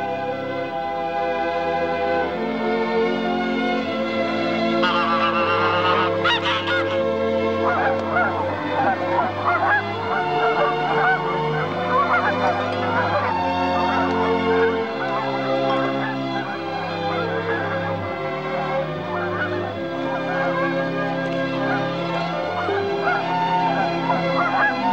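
Wild geese in a cartoon give a continuous run of overlapping nasal honks over a tonal background, loud and close throughout.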